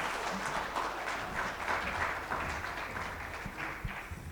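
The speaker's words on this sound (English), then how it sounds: "Ladies and gentlemen, another round of applause, please." A convention audience at an aviation stakeholders event applauds, with steady, continuous clapping from many hands filling the room for several seconds at a fairly even level.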